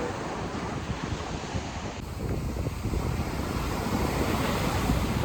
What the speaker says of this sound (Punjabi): ਸਮੁੰਦਰ ਦੀਆਂ ਲਹਿਰਾਂ ਦੀ ਬਾਜ਼ ਫੀਲ ਕਰੋ